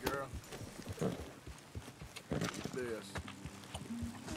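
Hooves clip-clopping in an irregular rhythm from the game Red Dead Redemption 2, with a horse snorting, all under quiet talking.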